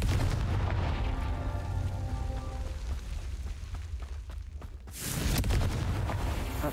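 Confringo fire spell cast in Hogwarts Legacy, a loud sustained booming roar that rumbles steadily, dips briefly, then surges back into a second burst of fiery blast near the end.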